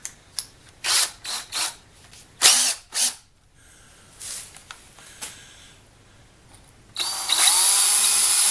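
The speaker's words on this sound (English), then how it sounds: "so I can drill that hole out." Power drill boring out a stuck bolt hole on a crashed Milwaukee pneumatic bandsaw, several short bursts of drilling with pauses, then a loud sustained whining run at the end.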